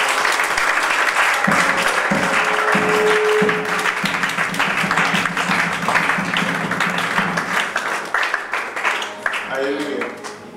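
A French-speaking church congregation applauds and cheers for the Lord, a loud, continuous wash of clapping and voices that gradually thins out toward the end.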